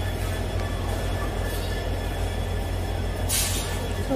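Steady low rumble and hum of a train standing at a busy railway station in Silchar, Assam, with a brief hiss like an air brake release near the end, no speech.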